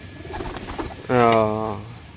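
A Giribaj pigeon gives one drawn-out, tonal coo lasting under a second, clear and fairly close above a low, steady background hiss.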